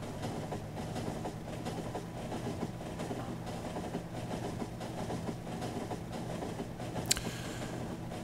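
Supply trains run in the Factorio video game, giving a steady rolling rumble with faint rhythmic clatter that holds at an even level throughout, with one brief sharp click near the end.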